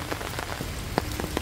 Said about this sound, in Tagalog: Talagang lurok po. Lurok ang ulan.